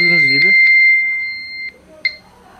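A Xiaomi Mi Band 4 fitness wristband sounds its find-device alert: a bright, steady electronic tone with a few short beeps, heard close and clear after a brief burst of talking.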